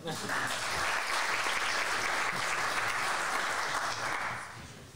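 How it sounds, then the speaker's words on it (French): An audience at a French talk on Google search results breaks into applause, a full and steady clatter of many hands that swells quickly, holds strong, then tapers off at the end. "On peut applaudir."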